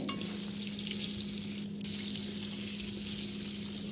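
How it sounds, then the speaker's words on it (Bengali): Eggs frying in oil in a cooking pot give a steady, moderate sizzle with a constant low hum beneath, briefly dipping near the middle before resuming, with no talking. "এখন এই তেলেতেই দিয়ে দেব ডিমগুলো ভেজে নেব খুব ভালোভাবে"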